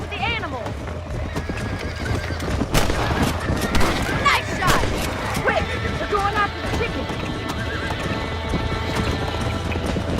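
In the Western game Red Dead Redemption, gunshots aimed at coyotes crack out a few times over steady clip-clopping horse hooves and a whinny, while people talk throughout.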